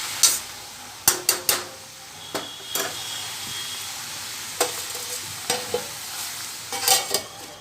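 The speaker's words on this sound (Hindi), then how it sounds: "बस इसको 2-3 बार चला के ढक देते हैं।" Greens (saag) fry in a pan under a soft, steady sizzle, while a spoon scrapes and stirs in a few sharp, irregular strokes that stand out clearly.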